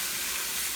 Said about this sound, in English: deglaze the pan with some beef broth